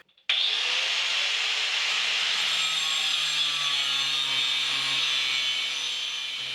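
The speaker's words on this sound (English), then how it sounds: "Then, using my angle grinder," An angle grinder cuts through a rusty metal fence holder, spinning up abruptly and then holding a loud, steady high-pitched whine that dips slightly near the end, with no talking.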